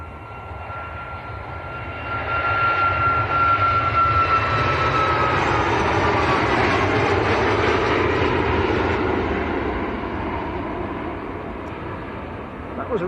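A Ryanair jet departing Manchester Airport for Rome roars steadily past, its broad engine noise swelling, holding loud for several seconds, then slowly easing off.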